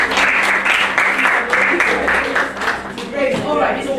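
An audience claps steadily for a few seconds in a dense, continuous round of applause at a planning workshop, loud and close, and voices come in near the end.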